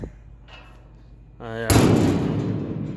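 Door on a John Deere baler being shut and not latching, a loud metal bang after a brief harmonic creak, followed by lingering rattle; a voice speaks over part of it.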